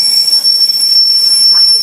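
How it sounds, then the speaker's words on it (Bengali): A train pulls into the station at Murudeshwar, its wheels letting out a loud, sustained high metallic squeal that holds steady for about two seconds. "দেখতে পাচ্ছি ট্রেন।"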